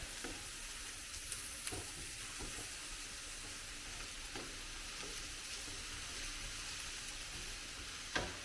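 Ground burrito meat sizzles steadily in a hot pan, a continuous close hiss with occasional scraping clicks and one sharper knock near the end, and no voices.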